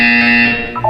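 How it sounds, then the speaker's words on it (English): A loud electronic buzzer tone from the video game Portal 2 sounds steadily, then shifts pitch briefly at the end, heard alone. "You will hear a buzzer."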